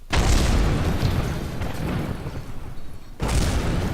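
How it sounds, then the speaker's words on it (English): Burning parachute blowing up in Kerbal Space Program, two loud game explosions: a long rumbling boom that fades, then a second sharp blast near the end, with no talking. "Nice double explosion there"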